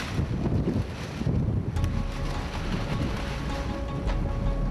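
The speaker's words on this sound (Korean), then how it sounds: "갑자기 거센 바람이 불어오기 시작했다." Strong wind roars steadily at a tower crane dismantling site, a continuous loud rush with gusty buffeting across the mic.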